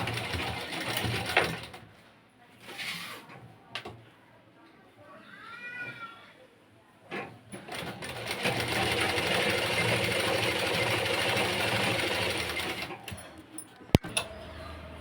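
An electric sewing machine stitching padded blouse sleeves runs as a steady, fairly loud whir through the latter half, after earlier stretches of talk and lighter handling sounds, ending with a sharp click.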